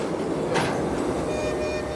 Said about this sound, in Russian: Составитель поездов Алексей Евгеньев разводит по путям вагоны, собирая их в длинный состав.